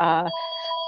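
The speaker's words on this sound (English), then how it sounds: "pardon the phone in the background." A phone rings in the background during a podcast episode, its electronic trill first coming through alongside a voice and then carrying on steadily by itself, fairly quiet.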